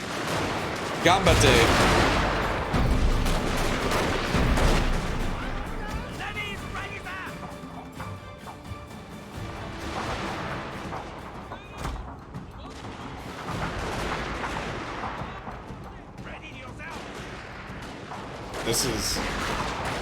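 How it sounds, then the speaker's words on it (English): Musket volleys crackle and boom across a Shogun 2 Total War battlefield, with repeated loud gunfire bursts over a constant roar of battle while a voice talks over it. "Now fire your stupid guns."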